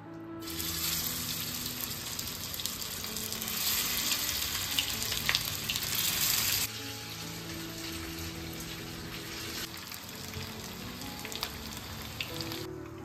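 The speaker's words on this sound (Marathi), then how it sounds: "तेल छान गरम झालं की जे गोळे मी थापून घेतले ते मी यात एक एक करून ऍड करणार आहे" Rice cutlets shallow fry in hot oil in a pan, a continuous close sizzle and crackle that runs throughout, louder in the first half and then settling a little quieter, with no talking.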